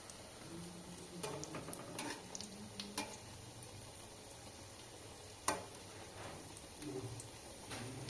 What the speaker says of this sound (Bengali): একটু এপাশ ওপাশ করে লাল করে ভেজে নেব।